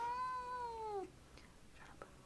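A fat cat gives one long, drawn-out meow with a falling pitch, loud and close, followed by quieter rustling and small sounds.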